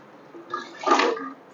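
Mutton cooking liquid is poured into a pot for mutton kulambu, a short, close splashing gush of liquid that swells and then tapers off.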